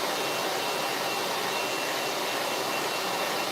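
A hair dryer blasts a constant, loud, broadband roar while blow drying natural hair that has been set in Bantu knots, with no pauses or talking.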